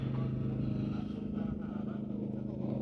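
A small pony start engine on a Caterpillar tractor runs at a steady idle, giving a close, continuous low hum with an even, slightly rough pulse and no change in pace.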